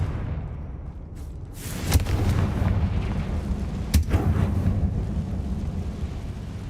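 Confringo fire spell from Hogwarts Legacy going off twice, each a sharp loud burst about two seconds apart, followed by lingering rumbling fire over a low background drone.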